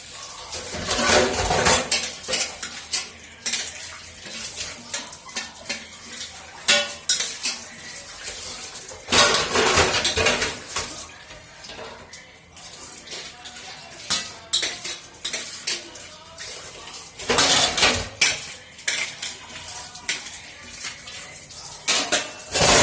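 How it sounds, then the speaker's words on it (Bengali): Dishes set down and washed at a kitchen sink, with repeated clattering of plates and utensils, bursts of running water and scraping, loud and close throughout. "সব এখানে বাসন রাখবো, ধুয়ে নিই না ওখানে"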